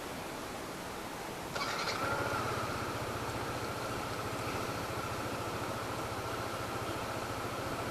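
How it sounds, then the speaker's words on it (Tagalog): A motorcycle engine starts with a sudden burst and then settles into a steady, rhythmic idle, fairly faint and recorded on a phone without an external mic, with no talking over it. "Start natin yung engine ng motor."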